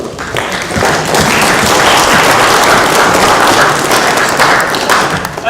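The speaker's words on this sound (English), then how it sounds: "Nice round of applause." Applause rises from the audience at a public consultation meeting, a loud, dense roar of clapping that swells quickly and holds steady, close and without talk.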